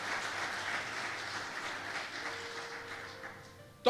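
Applause from a church congregation praising God, a steady broad wash of clapping that holds fairly even and then fades toward the end, with a short sustained tone entering near the close.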